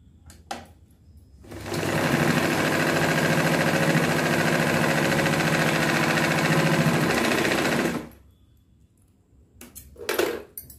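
Domestic sewing machine running steadily for about six seconds while stitching a blouse seam, a close, loud, even whirring hum that starts abruptly and stops cleanly, with quiet handling noise before and after.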